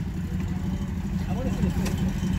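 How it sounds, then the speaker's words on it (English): A rowdy flathead engine in an off-road vehicle at a mud bog, a loud, rough, continuous engine rumble with people talking over it. "Yeah, it is a rowdy flathead."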